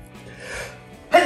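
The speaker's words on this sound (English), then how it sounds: "I'm gonna sneeze." A single person sneezes sharply near the end, preceded by a soft breathy build-up, loud and close in a quiet indoor room.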